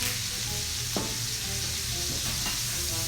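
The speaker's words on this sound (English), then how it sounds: "While our sausage is browning" Sausage seasoned with smoked paprika sizzles and browns in a hot pan, a loud, close, continuous frying hiss with a few sharp stirring scrapes and no talking.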